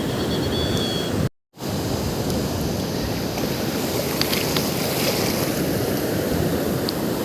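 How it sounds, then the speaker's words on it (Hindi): Ocean waves wash onto a beach in Goa, a constant broad roar of surf close to the microphone, with wind buffeting and one brief dropout early on. "See there and the waves, they never forget to satisfy you"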